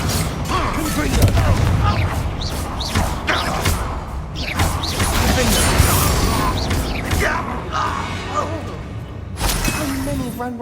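Blasts of the Confringo explosive spell in Hogwarts Legacy land as repeated sharp bursts and crashing impacts within dense, loud combat sound, with a voice talking over much of it.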